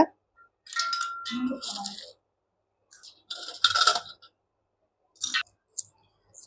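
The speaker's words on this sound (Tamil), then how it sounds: "அப்புறம் சில்வர் காயின்ஸு, அதுக்கப்புறமா 9 சில்லறை காயினு." Coins, silver ones and small change, drop into a ritual kalasam pot with several bright metallic clinks and rattles, close by, between stretches of someone speaking.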